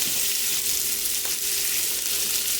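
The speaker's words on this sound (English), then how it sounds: "And we don't want to overcook them, we just want to sear them." Seafood sears in a hot pan, giving a steady, loud sizzle of frying throughout with no talking.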